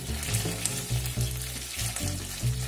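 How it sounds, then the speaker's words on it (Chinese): Pork chops for a Shanghai home-style dish sizzle in a round-bottomed, tall-sided wok, a dense continuous crackle close by with brief louder spits, under light background music. "它倒到圆底炒菜锅里面。"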